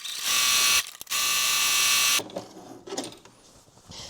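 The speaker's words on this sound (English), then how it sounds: "So now I'm just gonna sew all the way around from my first tick mark down to the bottom" A sewing machine runs in two loud bursts, stitching a half-inch seam around the sides and bottom of fabric for an Easter basket, with a brief pause between runs and quieter handling after it stops.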